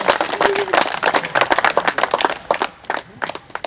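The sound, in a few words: audience applause for a poet on stage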